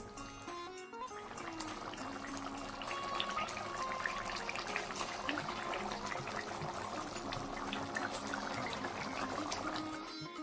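Egg, cauliflower and pea curry bubbling in a pan, a steady dense simmer running unbroken throughout, with tonal background music layered over it.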